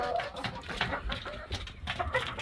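Chickens cluck and murmur in a coop on a very hot day, a soft, continuous chorus of overlapping bird calls at close range with faint rustling.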